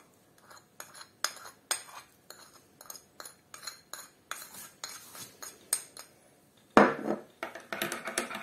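A spoon clinks and scrapes rhythmically against a bowl as kefir, salt and baking soda are stirred into dough for Tatar triangle pastries, with a louder clatter near the end, close and without speech.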